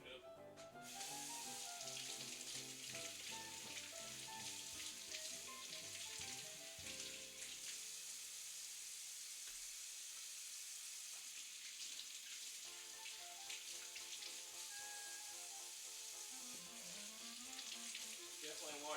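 Tap water runs steadily into a kitchen sink while celery is rinsed under it, a continuous close hiss of flowing water lasting the whole stretch, with faint background music beneath.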